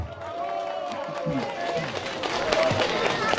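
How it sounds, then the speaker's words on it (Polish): An audience at a parish festival in Essen claps for a photography company, a sustained patter of applause mixed with crowd noise and talk. "Duże brawa"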